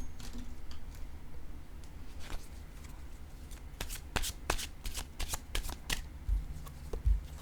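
A deck of cards is shuffled at close range: soft riffling at first, then a run of crisp, rapid flutters and snaps in quick bursts toward the end, with no talking.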